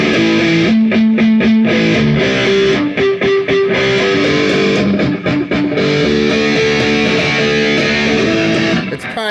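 Electric guitar played through distortion and effects, sustained overdriven notes and chords with choppy, stuttering strums and a gated, rhythmic texture, loud and close with no talking.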